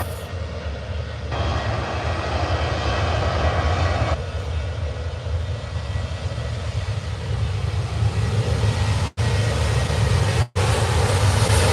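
An airliner takes off from the runway at Manchester Airport in the morning, its engines roaring steadily, loud and sustained throughout, with no talk.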